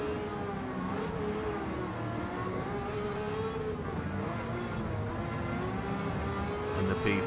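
Race car engines at Le Mans in Gran Turismo 7, a Ford field on track, giving a steady loud droning roar of several cars together, pitches rising and falling continuously with no gaps.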